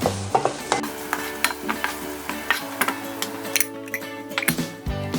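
Garlic and onions sautéing in hot oil in a pan, with a steady sizzle broken by frequent sharp clicks and scrapes of a utensil stirring against the pan, heard up close with no talking.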